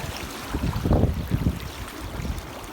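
Sea waves washing in on a beach with a strong current, a swelling rush of water close by over a constant windy, noisy background.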